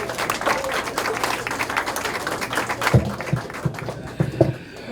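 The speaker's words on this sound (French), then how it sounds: "On l'applaudit encore, mesdames, messieurs." Audience at a book launch applauding author Marc Harvey, a sustained patter of many hands clapping with a few sharper claps standing out near the end.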